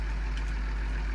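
A tractor engine in Farming Simulator drones steadily with a heavy low rumble and constant idling tone, loud and close, alone without any voices.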